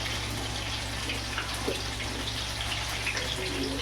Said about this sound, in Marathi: याच्यातला पाणी आहे ना तो त्या मटणात टाकायचं आहे